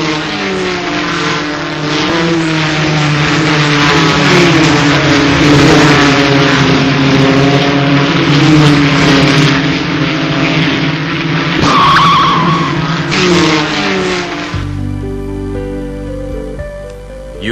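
Race cars roar off the start at Silverstone, a loud sustained engine wail with shifting pitches and a sharp skid-like burst near the end, before the sound cuts abruptly to a different, quieter tone.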